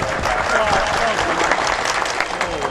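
Loud, steady applause from an audience at a mushaira poetry gathering in Malad, dense clapping throughout with a few voices mixed in.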